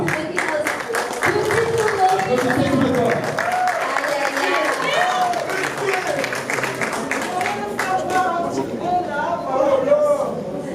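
An audience at the Festiweb 2023 web awards ceremony claps steadily for an international artist, a dense wash of applause with crowd chatter and voices mixed in throughout.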